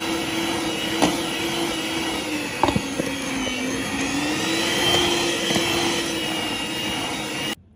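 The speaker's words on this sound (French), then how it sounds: "on va venir battre pendant 1 minute au batteur électrique" An electric hand mixer beating chocolate cake batter, a loud, steady whirring drone held for several seconds with small pitch shifts and a few knocks of the beaters against the bowl, close up and without speech.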